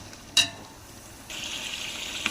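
Chicken pulao with salt and spices is stirred in a pot, with a faint sizzle, a single sharp scrape of the spoon, then steady frying hiss and light stirring sounds close by.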